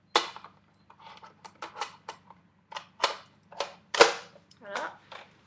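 Magazine clicking into a Nerf blaster, a series of sharp plastic clicks and snaps in an irregular rhythm, close and fairly loud against a quiet room hum.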